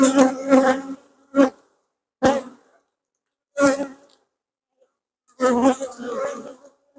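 Short bursts of honeybee buzzing at an open hive during an inspection, several brief close passes separated by near silence, with a longer buzzing stretch toward the end.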